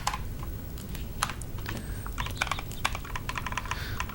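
Typing on an IBM computer keyboard produces rapid, close, crisp key clacks in uneven bursts over a few seconds, with no voices.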